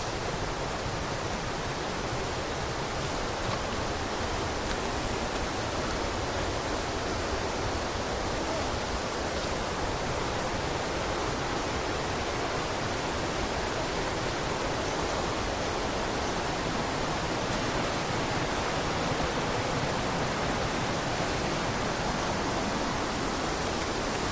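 Water of a clear forest river at the Cai Cibentar headwaters rushes and babbles in a steady, even wash, with no break and no voices, heard close.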